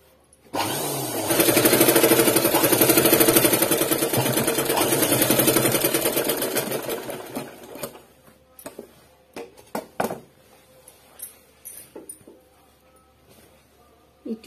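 A sewing machine stitches along a pant leg. It runs in a loud, steady, fast whir for about seven seconds, then stops, followed by scattered clicks and handling sounds.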